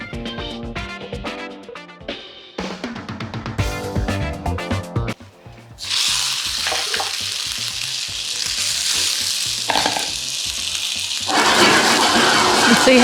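Food sizzles steadily in an Ironclad cast iron frying pan, loud and close. Clattering and scraping come first, and the frying then grows into a continuous hiss that rises further toward the end.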